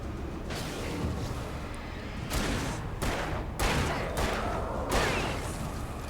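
Rapid bursts of gunfire in the Alan Wake video game, dense and sustained across the whole stretch with several louder volleys standing out, no talk over it.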